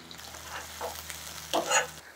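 Onions and green chillies drop into hot oil and fry with a soft, quiet sizzle, brief bursts of crackle rising near the end, and no voices.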